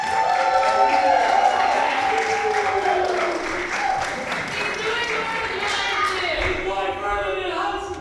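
Crowd applause and cheering at a wrestling show fill the space, a steady roar of clapping that stays loud throughout, with voices mixed in.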